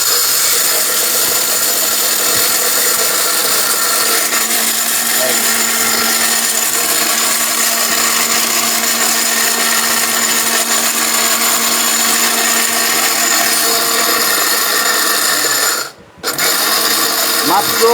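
An electric blender grinds ingredients to powder in a loud, steady motor whine that runs without a break, stops briefly near the end, then restarts.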